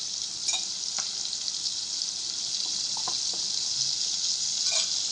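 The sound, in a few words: onion frying in butter and oil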